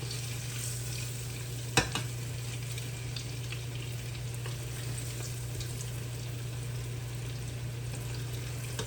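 Croquettes sizzle and crackle steadily in a hot skillet, a constant close frying hiss with one brief sharp clink near the start.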